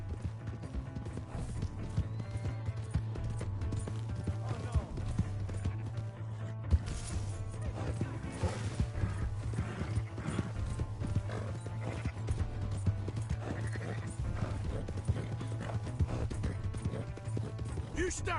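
Rapid hoofbeats of a galloping horse in Red Dead Redemption 2 pound steadily throughout, with a neigh and scattered clatter in a busy game soundscape, voices occasionally heard.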